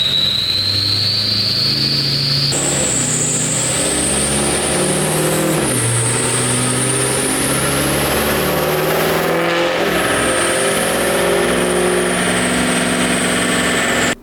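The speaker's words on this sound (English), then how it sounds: "we had to make a couple small pulls to make sure the transmission was shifting properly and everything was running smooth" A Ford 6.0L Powerstroke diesel truck revs hard on a dyno, loud and close, the engine climbing through several gear shifts with a high whine rising above the steady roar.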